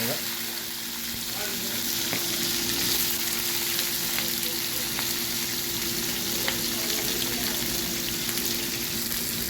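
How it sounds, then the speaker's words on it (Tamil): Quail eggs frying in hot oil with pepper, cumin, green chilli, curry leaves and onion give a steady, close sizzle that holds evenly throughout, with faint stirring scrapes. "காடை முட்டை ரோஸ்ட்டு மிளகு போட்டு எண்ணெய் காஞ்சிட்டு ஜீரகம் சேர்த்துருக்காங்க"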